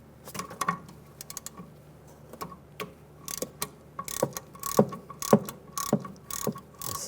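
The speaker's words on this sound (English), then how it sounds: "Using an E10 socket, we're going to take this bolt out right here." A ratchet fitted with an E10 socket backs out a bolt on a rear brake bracket of a 2006-2009 Mercedes-Benz E350, giving rapid clicking runs that grow louder and busier toward the end, close up and without talk.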